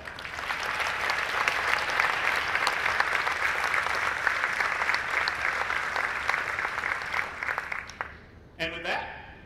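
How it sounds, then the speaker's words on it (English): An audience at a congressional runoff debate applauds the candidates in a sustained, dense burst of clapping that fades toward the end, and a voice then begins speaking over the last claps. "a big round of applause for Gary Palmer and Paul DeMarco"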